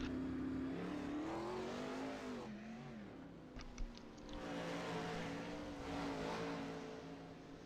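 A field of 410 sprint race cars circles a dirt track behind a pace car, engines droning steadily at a distance with a continuous low rumble that rises and falls as they pass.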